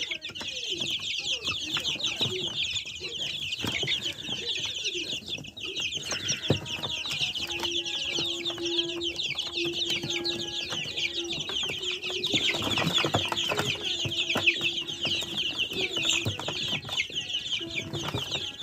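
Australorp hens cluck steadily in a busy flock on a farm, with bird chatter and farmyard noise throughout and a brief voice in the background.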